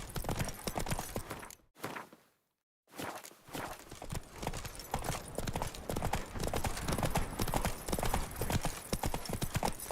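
Horse hooves gallop in The Witcher 3 video game, a rapid, loud rhythmic clip-clop close by with a short break partway through, then steady pounding strides to the end.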